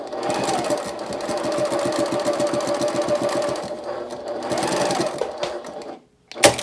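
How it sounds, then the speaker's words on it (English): A domestic sewing machine runs a long basting stitch to close a fabric opening on a toiletry bag, its needle thumping in a steady fast rhythm for about six seconds before stopping abruptly, followed by a short handling clunk. "I sew that opening just using a basting stitch with the longest stitch length you have"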